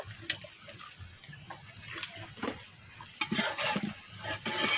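Egg frying in oil in a pan, a soft crackling sizzle with scattered spatula scrapes and taps, close and quiet, growing busier toward the end.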